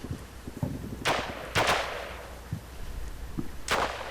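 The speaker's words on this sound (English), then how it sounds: "There's the artillery rounds coming in." Artillery rounds land in the video game Combat Mission Shock Force as a few scattered sharp, distant booms, roughly three or four spaced impacts over a low background rumble.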